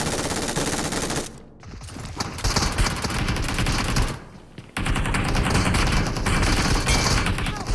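Rapid gunfire in a BGMI squad fight, dense bursts of automatic fire nearly nonstop, with two brief lulls before shooting resumes loud and close.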